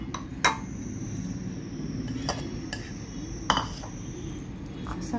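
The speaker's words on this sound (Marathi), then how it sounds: "मी आता हे एका दुसऱ्या भांड्यात काढून घेणार।" Homemade strained yogurt for amrakhand is scooped into another vessel, with a few sharp metal utensil clinks against the pots over a soft background.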